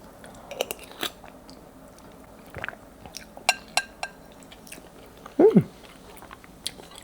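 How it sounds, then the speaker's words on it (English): Someone eats noodles with goat cheese and leftover sausage, giving scattered soft bites and chews, close and quiet, with a brief louder squishy mouthful near the end. "Let's have a taste test."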